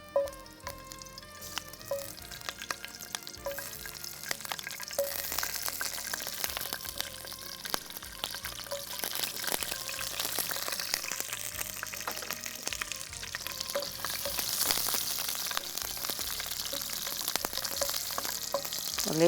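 Green chilies frying in hot oil in a home-style Tamil kitchen, a steady close sizzle with crackles and spits running throughout, no talk.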